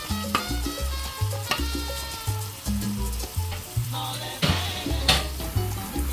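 Garlic and onions sizzle and fry in a pan, a steady crackling hiss close up with occasional stirring scrapes and clinks, no talking.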